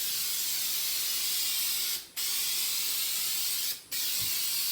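Krylon spray lacquer hisses from an aerosol can onto a bathroom countertop, a loud close continuous spray broken by two brief pauses.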